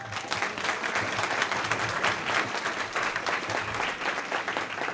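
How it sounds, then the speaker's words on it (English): A crowd at an evening gathering breaks into sustained applause, heard as a dense, even wash of clapping from many hands that holds steady for several seconds without voices over it. "Please give my wonderful wife, Jenny, a round of applause."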